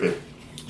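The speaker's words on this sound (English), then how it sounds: "Oh my gosh, that dog." A pet dog named Sasha gives a short bark or yip at the start and a faint second yelp near the end, brief and close in a home kitchen.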